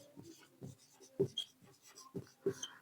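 Chalk or a marker writes lesson notes on a board in a quiet classroom, giving a series of soft, close scratchy strokes in an uneven rhythm, with no talking.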